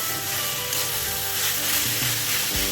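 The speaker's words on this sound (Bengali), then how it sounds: "জল কিন্তু প্রায় শুকিয়ে এসেছে। আমি আর একটু ভাজা ভাজা করে নেব।" Taro (maan kochu) ghonto sizzles steadily in a pan as its water cooks off, with a loud, continuous frying crackle and a few soft stirring scrapes near the end.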